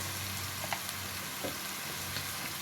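Sausage pasta sauce sizzles quietly in a pan while being stirred, with a steady frying hiss and a few soft scraping touches, no voices.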